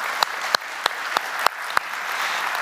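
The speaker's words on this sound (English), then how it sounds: "Give them a round of applause for sponsoring." An audience at a DuckCon conference applauds its sponsors, a dense steady patter of many hands with a few sharper claps standing out at regular intervals, with no talking.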